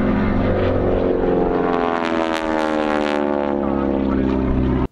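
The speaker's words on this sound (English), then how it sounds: "the T6 Texan and the distinct noise its propeller tips make as they break the sound" A T-6 Texan propeller aircraft roars close and loud, its propeller tips producing a harsh, buzzing rasp over a steady engine drone that holds throughout, with no talk.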